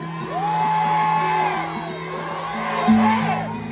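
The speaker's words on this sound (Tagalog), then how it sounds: "isigaw na natin ang nasa loob natin!" A rally crowd in the Philippines shouting and whooping together in long, rising yells, loud and close, with cheering voices blending into a sustained roar.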